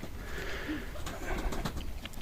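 Soft, low cooing of tumbler pigeons sunbathing in a loft, against a faint background hum, fairly quiet and close by.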